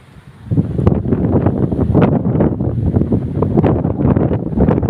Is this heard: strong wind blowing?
yes